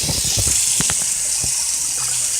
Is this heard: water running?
yes